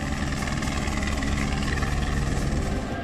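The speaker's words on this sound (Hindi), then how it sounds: "इसके साथ ही ट्रांसपोर्ट विमान और हेलीकॉप्टर भी शामिल हुए।" A military helicopter flies past during an air force exercise, its dense rotor and turbine roar steady and loud throughout with a faint rhythmic blade chop, no voices.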